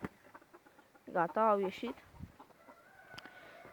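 A skittish rooster at a home farmyard gives a short burst of loud, close clucking with harmonic calls amid softer rustling, and a person talks briefly nearby.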